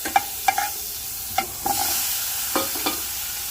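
Cumin and mustard seeds frying in a little butter in a pan for a prawn dish, with a soft steady sizzle broken by several sharp clinks and stirring scrapes of a spoon at uneven intervals.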